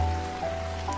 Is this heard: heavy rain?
yes